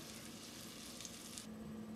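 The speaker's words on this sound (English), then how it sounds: "Pan frying something like this turkey here" Steady sizzling of turkey frying in a hot pan, a continuous crackling hiss with no voices.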